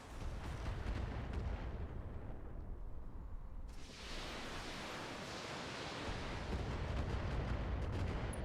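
Artillery and missile fire from the mech strategy game Battletech, a dense, roaring wash of launches and blasts that briefly thins before swelling again, loud and continuous with no talk.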